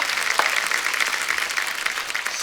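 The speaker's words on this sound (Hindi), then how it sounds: "जोरदार तालियां" Steady applause from a crowd, dense and continuous clapping throughout without pause.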